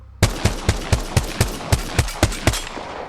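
A G7 Scout rifle in Apex Legends fires about eleven sharp, evenly spaced shots in rapid succession, loud and close, each with a short echoing tail.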